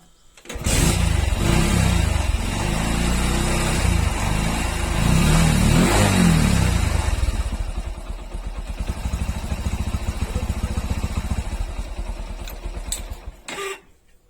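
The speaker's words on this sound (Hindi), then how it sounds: "अपने इंजन को स्टार्ट करके मैं आपको चेक करवा देता हूँ" A Hero Passion Pro motorcycle engine starts and idles up close, rising and falling as it is revved, loud and continuous for about thirteen seconds before cutting off.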